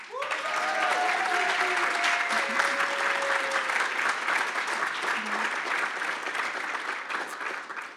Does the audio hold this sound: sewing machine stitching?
no